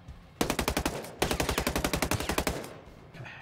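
Automatic gunfire in the tactical shooter game Ghost Recon Breakpoint: two loud, rapid bursts of evenly spaced shots, the second burst longer, with a few fainter noises afterward.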